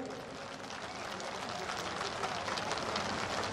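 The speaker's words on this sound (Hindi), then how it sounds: "जोरदार तालियां, खड़े होकर आप लोग तालियां दीजिए" Dense, steady applause from a standing crowd at a Buddhist initiation ceremony and community gathering, fairly faint and continuous throughout with no clear breaks.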